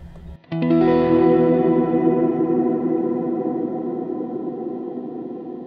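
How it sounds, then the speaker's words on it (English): A sustained, swelling chord through a Line 6 HX Stomp hall reverb at maximum motion, heavy wobbling reverb that shimmers and slowly decays, following a brief low thump at the start. "the higher your motion, you can hear a lot of wobbly kind of sound"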